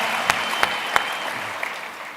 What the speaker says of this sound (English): But Nikolai, give him a round of applause.